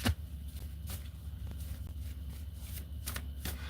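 Tarot cards shuffled by hand at close range, a continuous papery riffling and rustling with small soft slaps throughout, no voices.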